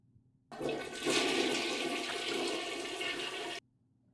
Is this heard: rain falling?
no